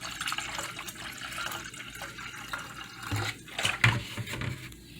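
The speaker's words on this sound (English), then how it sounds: "I'm going to double that with some white vinegar" White vinegar is poured into an electric glass kettle, giving a soft liquid trickle and splash over faint room noise, with a few louder gurgles near the end.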